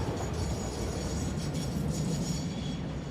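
A freight train in the video game Satisfactory runs past with a steady, dense rail rumble and clatter, continuous and fairly loud, with no talking.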